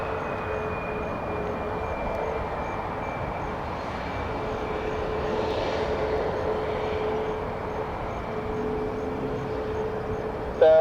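A Boeing Max 800 airliner drones steadily at an airport on an early morning, a broad continuous engine roar with a faint whine, moderately loud and unchanging, no talking over it.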